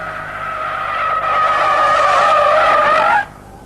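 Toyota MR2 tyres squeal loudly in lift-off oversteer at nearly 40 mph on a test circle, a sustained, wavering screech that builds and then cuts off abruptly.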